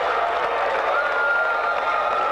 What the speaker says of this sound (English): That wakes up the crowd here to my right from Marshall.